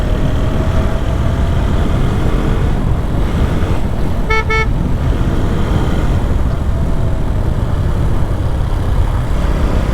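A vehicle drives along a road with steady loud engine and road noise, and midway a short car horn toot sounds once over the constant rumble.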